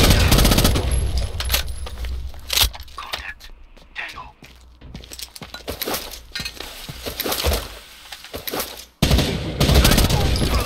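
Gunfire in the Rainbow Six Vegas 2 video game during a terrorist hunt: loud bursts of automatic fire with sharp impacts and clinking, breaking-glass debris, repeated across the span with a brief lull before a final burst, with voices mixed in.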